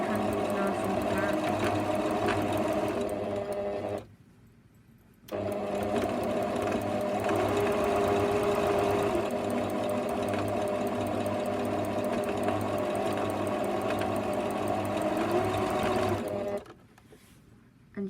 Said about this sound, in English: all you're going to do is sew a nice straight line